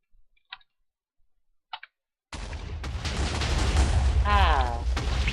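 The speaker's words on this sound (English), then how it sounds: "that was quite a small explosion" Small TNT explosion set off with redstone in Minecraft: a couple of faint clicks, then a sudden loud blast that rumbles and hisses for several seconds, with a brief voice sound late in the noise.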